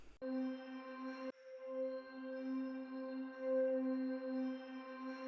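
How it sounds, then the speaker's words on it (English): A sustained synth pad with reverb, delay and modulation holds steady harmonic tones, restarting once after a short opening note, then swelling and wavering gently with no other sounds. "Pad synth sounds are a hallmark of EDM music"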